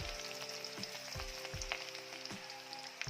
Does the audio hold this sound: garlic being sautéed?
yes